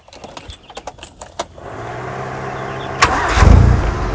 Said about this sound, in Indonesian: Coba sekarang tak hidupkan ya.